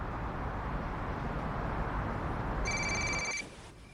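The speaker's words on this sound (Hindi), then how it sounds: "अरगवान, तुम्हारा फोन" A telephone rings once in a domestic scene from a drama series, a short bright electronic ring near the end over a steady background hiss, with no voices.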